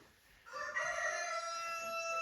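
At an Easter play, an actor imitates a rooster's crow: after a brief quiet, a single drawn-out, tonal cock-a-doodle-doo rises and holds, moderately loud and alone.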